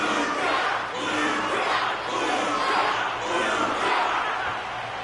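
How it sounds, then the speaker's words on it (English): Steady crowd applause and cheering from a packed arena audience at a fighting match in the Honkai Star Rail video game, a dense, continuous roar that swells and dips gently throughout. "The audience's passion stays strong. Their constant applause is a salute to this resilient Belabogian fighter."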